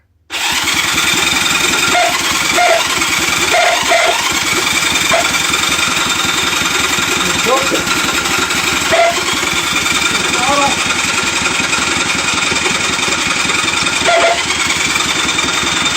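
A small gas engine runs at throttle with no choke, making a loud, continuous rough chugging drone with occasional sputters, close by throughout.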